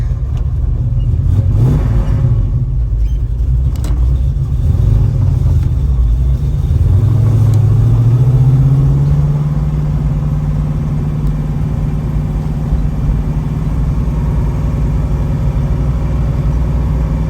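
A heavy, rumbling 1969 Chevrolet Camaro Yenko tribute engine drones steadily from inside the car, with one rising rev as it pulls away and cruises on.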